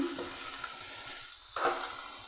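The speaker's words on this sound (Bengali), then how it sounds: "ওই তেলের মধ্যে দিয়ে দিচ্ছি আমি বেগুন" Eggplant frying in oil in a pan, a steady close sizzle with brief stirring and clinking touches throughout.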